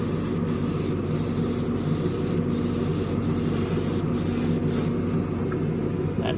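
Touch-up paint spraying onto a Revell 1971 Boss 351 Mustang model car, a steady close airbrush-like hiss running throughout with brief pulses as the spray is triggered.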